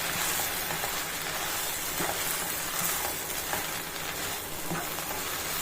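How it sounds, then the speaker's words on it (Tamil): Bread pieces tossed with masala in a frying pan give a steady, close sizzle with soft scraping stirs running throughout, no voices. "அதை நல்லா எல்லா மசாலாவும் அதில் சேர்ற மாதிரி கிளறி கொடுத்துக்கணும்"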